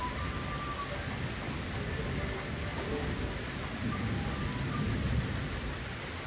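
Steady, dense rain pours down continuously at Amegundi Resort, a broad even wash of drops with no voices over it.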